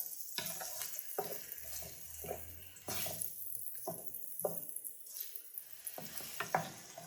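Onion frying in bacon grease in a pan, a quiet crackling sizzle broken by repeated scraping stirs and utensil taps, with a faint low rumble in the background.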